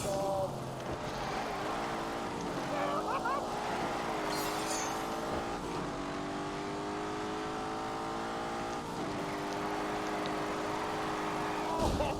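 A 4-litre twin-turbo V8 making 510 horsepower drones steadily in The Grand Tour racing game, its engine tone rising and shifting through gears at a constant loud level, with a voice talking over part of it.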